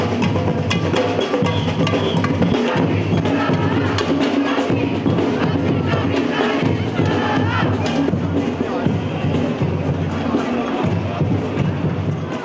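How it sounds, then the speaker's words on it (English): Large crowd of anti-capitalist and climate change campaigners rallying in London, a dense continuous roar of voices, shouting and cheering that holds loud and steady throughout. "crowds of anti-capitalists and climate change campaigners came together for a rally"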